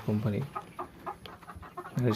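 Egyptian Fayoumi laying hens on a farm cluck close by, with repeated bursts of throaty clucking at the start and end and softer calls in between, alongside someone talking.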